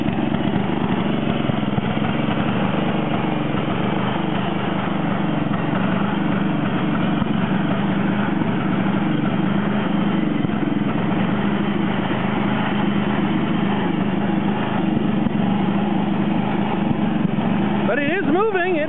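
A John Deere 111 lawn tractor engine running on a cold start, a steady buzzing drone with a low throbbing hum that holds level and close throughout, with a brief wavering change near the end.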